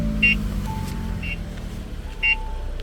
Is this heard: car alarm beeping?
yes